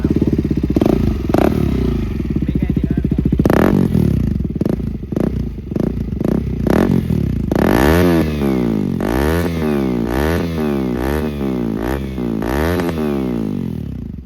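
A KTM Duke 200 motorcycle with an aftermarket Ramp exhaust, idling in neutral before blipped throttle revs and then a run of repeated loud revs rising and falling in quick succession, close and harsh.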